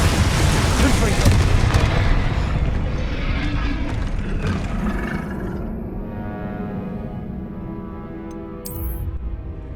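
A Confringo spell blast in Hogwarts Legacy bursts with a loud, heavy boom that rolls and rumbles, then fades out over several seconds amid game ambience.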